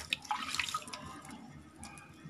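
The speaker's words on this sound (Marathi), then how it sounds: "त्यात आता आपण हे असं पाणी घालून ठेवणार आहोत" Water trickles and splashes softly into a container of washed rice, a light pouring sound with small drips, fairly quiet and close.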